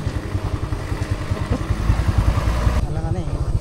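A motorcycle engine putters nearby on a forest road in Tapanuli, Indonesia, with a rhythmic, throbbing idle that holds steady, then shifts slightly near the end.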